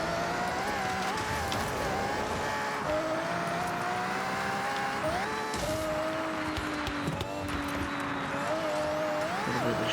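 A 2023 Toyota GR Corolla in an off-road racing game, its engine droning continuously with tonal revs that rise and shift through gear changes, joined by rumbling tyre and terrain noise and a few brief bumps.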